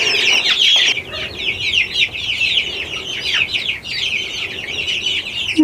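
Young chicks in a coop chirp and cluck continuously, a busy, close chorus of high peeping calls with no talking.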